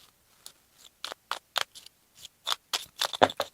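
Cards are shuffled for a board game, a series of short, crisp riffling and snapping bursts that speed up toward the end, close and quiet, with no talking.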